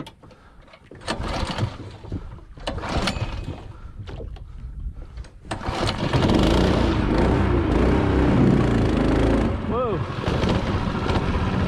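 A small boat motor runs on a maiden voyage. Short rough bursts give way to a loud, sustained buzzing engine drone close by, with a startled exclamation and a brief voice heard over it.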